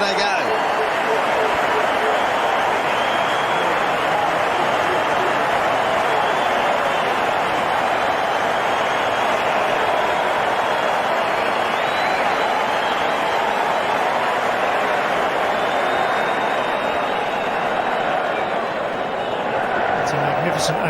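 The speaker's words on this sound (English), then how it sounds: "They get a chance to clap a second time." Cricket stadium crowd during an India versus Sri Lanka T20 match, sustained loud applause and broad crowd roar filling the whole stretch without a break, steady and dense throughout.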